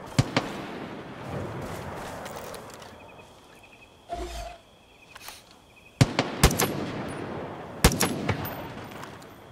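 Gunfire in Far Cry 5, with sharp broadband shots in scattered bursts, several loud near cracks late on over a steady background of game ambience.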